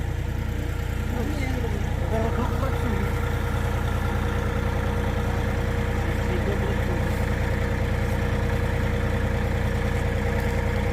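New Kentavr 244SX Chinese tractor engine idling during break-in, a steady low diesel rumble running throughout, with people talking faintly over it.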